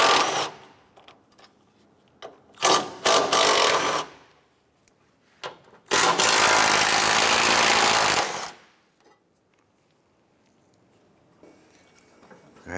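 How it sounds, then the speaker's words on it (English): A 13 mm socket on a ratchet or power tool works a bolt free from a brace on a 2006-2013 Chevrolet Impala, heard as a few short bursts of whirring and ratcheting, then one longer loud run, with quiet gaps between. "Using a 13 millimeter socket, remove the bolt securing this brace."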